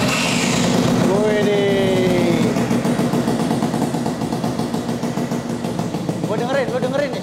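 Vespa Excel two-stroke scooter engine idling close by, a steady buzzing putter running throughout while people talk over it.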